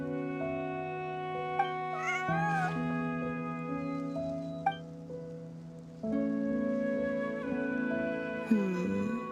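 A cat meows a few times in short rising and falling calls, fairly close, over a steady sustained musical backdrop with no talking.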